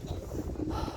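Cold wind blowing across the Himalayan mountains, a steady low rushing roar with gusty buffeting against the microphone, close and continuous through a brief moment.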